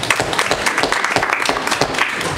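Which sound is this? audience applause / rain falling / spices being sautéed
audience applause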